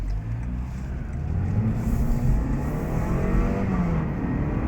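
A 2016 Lexus IS 200t F Sport with its turbocharged engine in sport mode accelerates from inside the cabin, the engine note climbing and then dropping briefly as the transmission makes quick gear changes, loud and steady throughout.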